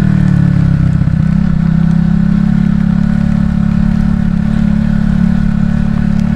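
A motorcycle engine runs steadily while riding on a muddy, rural road, its loud, continuous mid-pitched drone holding close and constant throughout with some rattling clatter.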